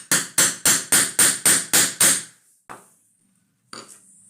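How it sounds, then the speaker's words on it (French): Seven sharp, evenly spaced hammer blows set a metal rivet in a handmade leather wallet, loud and close, followed by a fainter knock and a light clatter after a short pause. "Je prends mon marteau et je frappe de plusieurs coups secs pour sertir mon rivet."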